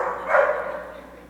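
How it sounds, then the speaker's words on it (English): A single short, hoarse dog bark or yip, close and moderately loud, fading out quickly with no other sounds around it. "Breathing, barking animals."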